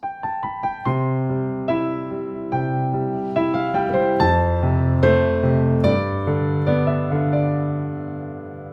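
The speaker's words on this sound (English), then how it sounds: "I'm keeping the piano pedal pressed to let the notes ring out." Solo piano plays slow, rolling ballad arpeggios with the sustain pedal held, each note left ringing and blending into a sustained, resonant wash of overlapping tones.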